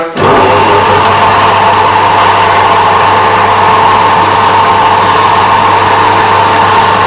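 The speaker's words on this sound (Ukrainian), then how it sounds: "після одержання допуску до виконання роботи проводимо включення насосу" A laboratory vacuum pump switched on beneath a bell jar kicks in abruptly and then runs as a loud, steady, close motor drone with a constant hum throughout, with no talking.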